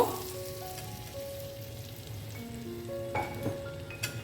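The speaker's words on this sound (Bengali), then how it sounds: "এবার আমি ভেজে রাখা স্কোয়াশ আর আলুটা দিয়ে দেবো এটা দিয়ে কষিয়ে নেব" Squash and potato stir-fry in a pan with a steady, soft sizzle and crackle, faint and close, with a few light scraping stirs near the end.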